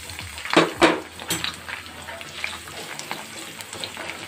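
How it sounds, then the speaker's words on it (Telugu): Thinly sliced onions and curry leaves go into hot oil in a pan for a Bhimavaram restaurant-style chicken fry. A couple of sharp clatters against the pan come first, then a steady close sizzle with light scraping, and no voices. "ఇప్పుడు ఉల్లిపాయ ముక్కలు వేసుకుందాం."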